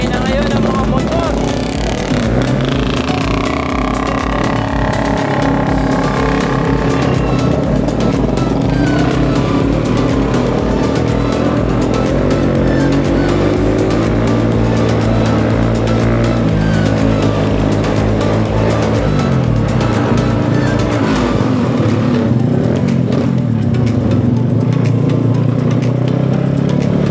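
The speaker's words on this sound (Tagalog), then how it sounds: "maiingay na ngayon ang mga motor" Motorcycles on a street, their engines droning and revving loudly and continuously nearby, with pitch rising and falling as they pass, and traffic noise underneath throughout.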